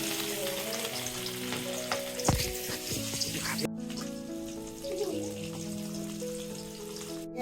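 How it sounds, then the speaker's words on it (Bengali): Tilapia fish frying in hot mustard oil in a pan, a steady crackling sizzle with a sharp spattering burst, continuing under a low hum. "গরম হয়ে গেছে, আমি এখন মাছগুলো দিয়ে দিচ্ছি।"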